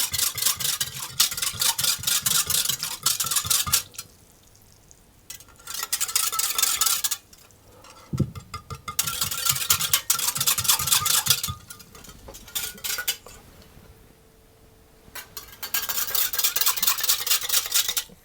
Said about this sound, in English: vinegar into the water, and I'm going to whisk that around